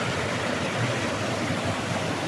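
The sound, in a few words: waterfall on a river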